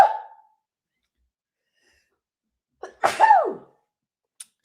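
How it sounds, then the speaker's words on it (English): A single sharp sneeze, preceded by a quick inhaled gasp, then silence apart from a faint click afterward. "Oh no, I got to sneeze."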